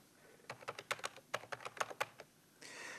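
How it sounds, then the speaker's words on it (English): Someone types a new password on a computer keyboard while setting up an old Dick Smith ADSL router: a quick run of about a dozen crisp key taps, close and quiet, with a short soft rustle at the end. "Next, type in your new password."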